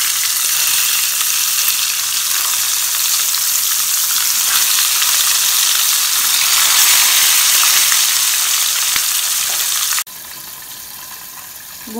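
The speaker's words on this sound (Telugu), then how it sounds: "ఇప్పుడు ముందుగా మనం స్టఫ్ చేసి పెట్టుకున్న ఈ వంకాయ ముక్కలను దీంట్లో వేసి లో ఫ్లేమ్ మీద మగ్గనివ్వాలి." Stuffed brinjal pieces fry in a pan for gutti vankaya curry, a loud, even sizzling hiss held close for about ten seconds, then it drops abruptly to a quieter, duller hiss.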